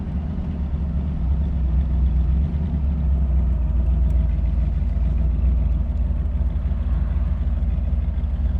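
A 1940 Ford coupe idles at a red light, a steady low rumbling engine heard close up and alone, with an even, continuous throb and no change in pace.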